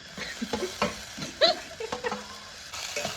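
Onion and tomato cooking in oil in a pan over mustard seeds, stirred with a utensil: a quiet sizzle under scattered scraping and clinking strokes, close by, with one brighter clink partway through and no talking.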